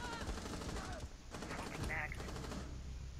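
Gunfire in the video game Rainbow Six Siege, bursts of rapid shots blasted through a window, heard amid game ambience with brief louder cracks partway through.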